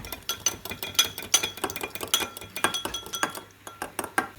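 A spoon clinks and scrapes against a bowl while salad is mixed with mustard paste, pink salt and pepper, in a quick irregular run of close, bright taps and chinks.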